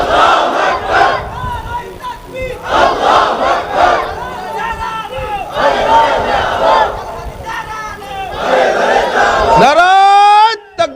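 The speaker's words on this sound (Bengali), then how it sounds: "কারা কারা একটু তাকবীর বলেন" A large crowd at a Bengali religious sermon chants takbir in repeated loud, rhythmic call-and-response waves. The voices swell and fall several times before a final long shout.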